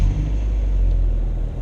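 A 1999 Caterham 7 sports car engine fires up into a loud, close, low rumble that stays steady through the brief moment.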